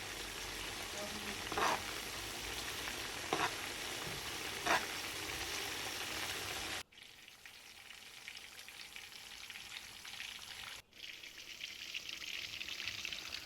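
Masala fish fries in spiced oil, sending up a steady close sizzle with a few sharper spits as hot oil is spooned over it; the frying drops briefly twice and then resumes.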